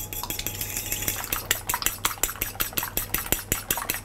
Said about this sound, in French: On va battre l'œuf.